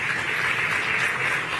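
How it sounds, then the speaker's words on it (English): Steady, dense applause from a conference audience at a national mining dialogue, a continuous wash of many hands clapping at even loudness with no voices over it. "A round of applause for him, please."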